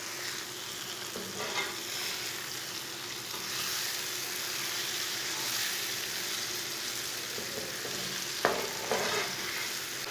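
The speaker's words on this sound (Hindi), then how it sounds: "2 अंडे डाल लेंगे। अच्छी तरह मिक्स कर लेंगे।" Eggs frying with ridge gourd in a pan, a continuous soft sizzle with occasional stirring scrapes and a sharp utensil tap near the end, fairly quiet and close, no speech.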